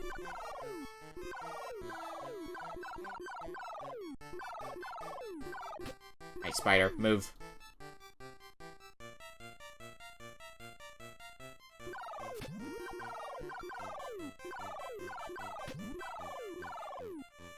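Birds in the NES game Dr. Jekyll and Mr. Hyde, rendered as chiptune music with repeated descending electronic squawks, plus a short noisy burst partway through, with a brief spoken remark.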